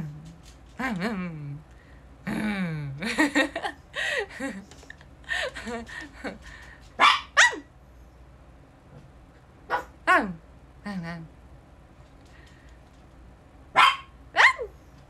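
A person imitates a dog with repeated barking yaps in quick bursts, then a few short isolated barks with pauses between them.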